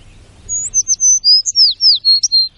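Songbirds in the Chernobyl forest, a quick series of high, clear chirps and short whistled notes close by against a quiet background.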